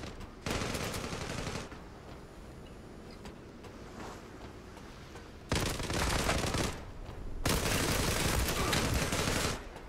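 Automatic gunfire in the online shooter Zula comes in loud, rapid bursts: one long burst early, then after a quieter stretch two more sustained volleys close together near the end.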